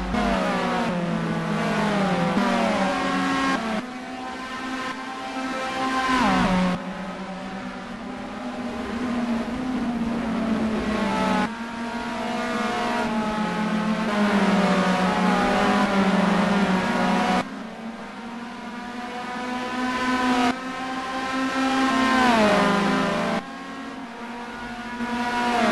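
Rallycross race cars tear around the circuit at a meeting, engines howling loud and close with repeated rising and falling revs through gear changes and corners, the pitch climbing and dropping in waves as cars pass.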